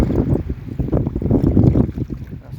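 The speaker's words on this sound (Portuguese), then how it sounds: "O vento tá aí" Strong wind buffets a fishing boat at sea on a rainy day, a loud continuous roar with gusting rumble close to the microphone, and no voices.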